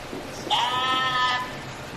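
A person's voice imitates a sheep, giving one wavering, nasal bleat that lasts about a second against quiet background noise.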